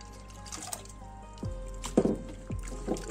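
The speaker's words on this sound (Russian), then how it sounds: "Картофель сразу промываем от крахмала" Grated potatoes rinsed with water to wash off starch: quiet trickling and sloshing close by, with a few soft splashes and knocks, no talk.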